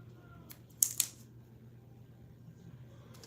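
Two sharp, close snips of scissors cutting layers into a synthetic wig, quick in succession against a quiet room hum.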